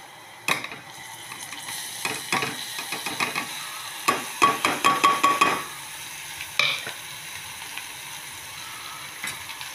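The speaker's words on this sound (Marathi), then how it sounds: "आता आपण त्याच्यामध्ये कांदे टाकू." Onions tipped into a pan of frying bitter gourd with jaggery, then stirred with a spatula: a soft sizzle under a burst of rapid scraping and clattering strokes, then a few isolated knocks.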